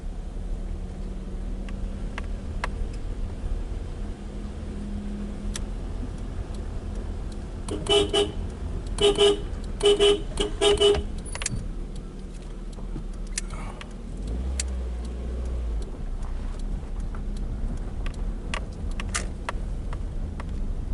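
A Nissan Primera idles and rolls out of a farm toward a main road with a steady low engine hum inside the cabin. A short series of horn-like beeps sounds midway, followed by a brief deeper engine rumble.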